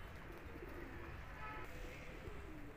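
Pigeons kept on a rooftop loft cooing in soft, low, repeated murmurs, quiet and continuous under a steady background hiss.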